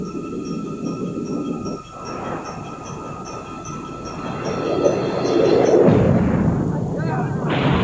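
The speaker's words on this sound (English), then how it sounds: "explosion of the torpedo, followed by a second explosion." A torpedo set to run three meters deep strikes near the starboard bow of the liner Lusitania, a continuous deep rumbling roar that swells louder and heavier partway through and then holds as a sustained, booming blast.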